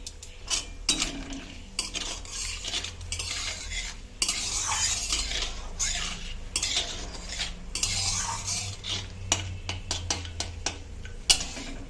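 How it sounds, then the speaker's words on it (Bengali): Whole garam masala, cardamom and cinnamon are stirred with a metal spoon in a hot kadai with ghee, giving repeated scraping clinks against the pan over a soft sizzle. "এবার দেবো গোটা গরম মশলা, এলাচ আর দারচিনি।"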